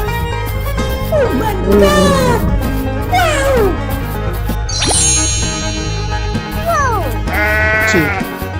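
Sheep bleat repeatedly, wavering cries rising and falling one after another, loud and near over a steady background with a bright chime partway through.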